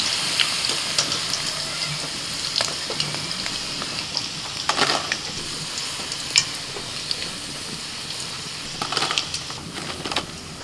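Pakoras frying in oil, heard as a continuous low sizzle with scattered crackles and pops throughout, fairly quiet and with no talk.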